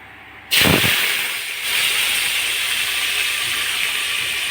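Cluster beans dropped into hot oil tempered with asafoetida, mustard seeds and cumin for a rustic village-style curry, bursting into a sudden loud sizzle that settles into a steady, close hiss.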